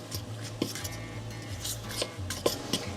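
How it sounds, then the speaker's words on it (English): A fork clinks and scrapes against a bowl while stirring flour and warm water into a dough ball, with a few sharper metallic taps standing out over a steady low background hum. "we'll take our fork and mix this until it forms a large dough ball"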